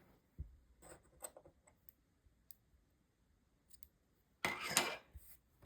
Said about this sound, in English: we're going to cut off the yarn